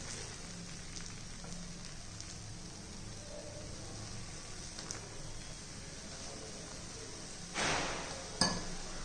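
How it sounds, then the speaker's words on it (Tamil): Dosa batter spread thin on a hot pan over medium heat, a soft steady sizzle and crackle running throughout, with a brief louder burst of frying near the end and a light clink of the pan. "இப்போ நம்ம வந்து தோசை ஊற்றிக்கிடுவோம்."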